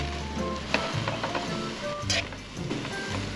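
Soy sauce hitting hot oil in a pan while cooking bean sprout japchae, a loud continuous sizzle with hissing bursts and occasional utensil scrapes, steady and close.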